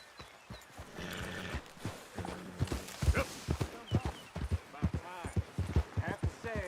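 Horse hooves clip-clop in Red Dead Redemption 2 in uneven steps, sometimes close, mixed with a snort or whinny and running under people talking.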